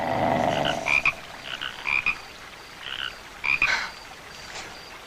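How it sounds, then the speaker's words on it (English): A frog croaks in a series of short, separate bursts, about five or six calls spaced irregularly over a few seconds, fairly close and clear against a quiet night background. "It was only a frog."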